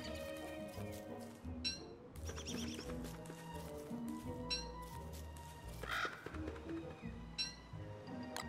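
Birds cawing in the video game Don't Starve, several harsh, scattered calls over a busy layer of game sounds, fairly faint overall.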